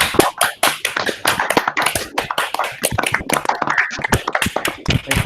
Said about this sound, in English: because now is our chance to applaud